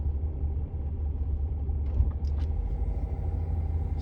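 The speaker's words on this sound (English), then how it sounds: "Now the engine is on." Car engine idling steadily at full operating temperature, a close, continuous low rumble with no voices.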